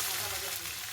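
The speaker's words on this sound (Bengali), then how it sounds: "কটা শুকনো লঙ্কা ভেজে নিচ্ছি" Dried red chillies fry in a pan for a shrimp bharta, giving a faint, steady hiss and crackle of hot oil that is continuous and unbroken, with no talking over it.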